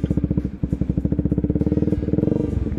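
Bajaj Pulsar 125 motorcycle running with its silencer removed, giving a loud, close, rapid string of raw exhaust pulses that hold steady without any talk.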